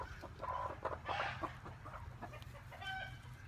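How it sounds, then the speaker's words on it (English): Several chickens cluck and squawk nearby in bursts, a busy barnyard chatter with low background rumble. "The chickens are making a ton of noise."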